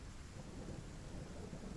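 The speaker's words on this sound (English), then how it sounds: "Gonna stare at the rain." Rain and rolling thunder in a video game, a steady dense wash of downpour with a low rumble running underneath, filling the scene continuously with no voices.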